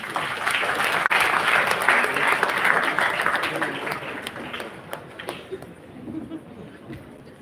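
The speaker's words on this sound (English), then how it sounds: "Give a big round of applause." Audience applause at an HR conclave, welcoming the company's CEO. Loud, dense clapping fills the room, then gradually thins and fades toward the end.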